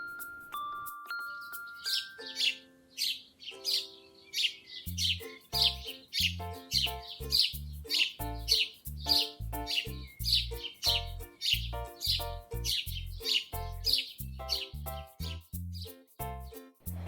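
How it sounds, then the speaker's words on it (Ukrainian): Quick, bright house sparrow chirps repeat steadily over a thumping low musical beat, after a few opening chime tones. "Послухайте, як співає горобчик."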